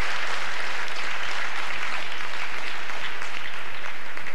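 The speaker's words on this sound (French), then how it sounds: "applaudissements de la salle qui apprécie" A hall crowd claps after a point in a Belgian national table tennis match, a dense and steady applause that holds for several seconds with no voices standing out.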